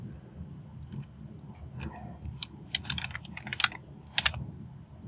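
A password being typed on a computer keyboard, a quiet run of irregular key clicks in short bursts over a low background hum, close by with no talking.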